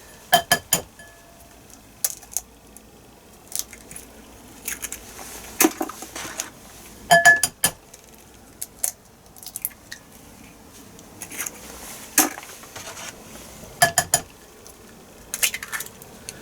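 Eggs cracked into a bowl beside a Salter XL Duo omelette maker: a series of sharp clicks, taps and shell cracks in short bursts, close up and separated by quiet pauses.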